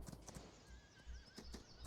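In the video game Farming Simulator 19, horses clip-clop with quick repeated hoof thuds while a whinny rises over them, faint and continuous with no talk.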